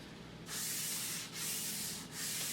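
Three long, steady strokes of a sanding block scraping across pine, close and continuous, with short breaks between passes.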